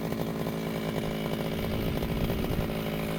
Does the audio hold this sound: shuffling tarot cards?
no